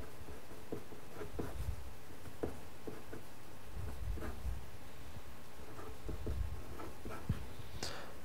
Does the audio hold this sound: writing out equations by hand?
yes